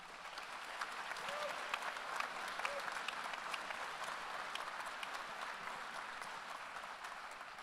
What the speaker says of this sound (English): And now you may clap.